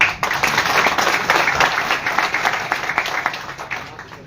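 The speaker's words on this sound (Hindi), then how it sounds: "ताली तो बजाओ।" Audience applause at a Bhamashah honour conference hosted by a traders' association: a crowd claps steadily and fairly loudly throughout, without a pause or talk, then thins slightly toward the end.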